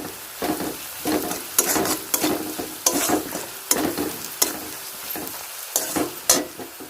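Spices frying in oil for pasta, with a spatula stirring in rhythmic strokes: repeated scraping sweeps over a continuous sizzle, close and fairly loud, with no talking.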